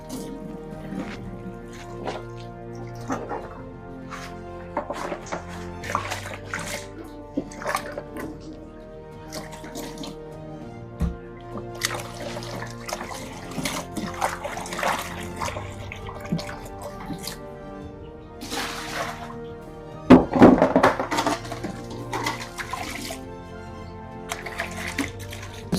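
Tap water rinsing a fish hatchery trough, with irregular splashes, drips and gurgles at close range, intermittent bursts and a louder splash near the end, with no talk.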